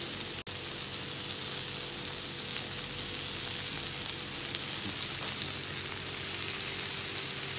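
Hasoom fish sizzles steadily on a grill, a crackling hiss that runs continuously at moderate loudness with no voices.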